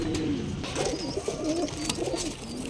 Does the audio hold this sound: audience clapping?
no